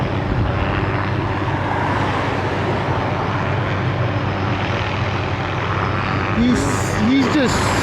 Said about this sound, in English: Look at the helicopter over there by that tower.